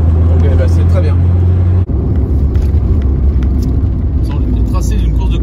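A Peugeot 205 engine idles steadily with a deep, loud drone near the microphone, on a hill climb course, while someone talks over it.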